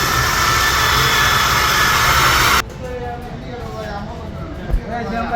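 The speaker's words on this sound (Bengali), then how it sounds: "কিতার ব্যাগটা বসানোর জন্য আমাদেরকে ড্রিল মেশিন দিয়ে 2টা ফুটা করা লাগবে" An electric drill bores holes into a Pulsar motorbike to fit a bag, giving a loud, steady whirring hum for about two and a half seconds before it cuts off abruptly, leaving quieter background noise.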